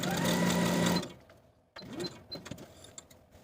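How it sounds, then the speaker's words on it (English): A sewing machine runs a fast, steady stretch of basting stitches through fabric for about a second, close and loud, then stops, leaving faint handling noises afterward. "I'm going to take this piece to the sewing machine and use basting stitches from notch to notch"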